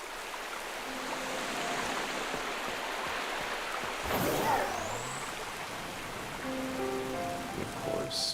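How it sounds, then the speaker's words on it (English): Steady rain from Pokemon Violet's in-game weather, a continuous hiss of drops on surfaces that runs through the whole stretch at even loudness, with a brief swell partway through and no talk. "It is raining,"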